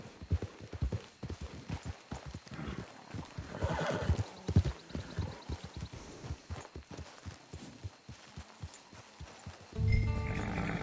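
In the video game Red Dead Redemption 2, a horse's hooves beat in a quick, continuous clip-clop. A neigh rises partway through and a whinny comes near the end, all fairly faint.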